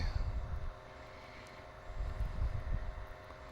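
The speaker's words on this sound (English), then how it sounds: "So we're just cruising around here in horizon mode." Fixed-wing RC plane running INAV cruising in horizon mode into wind, a faint motor drone under heavy rushing wind noise that swells, eases, then rises again, with no voices.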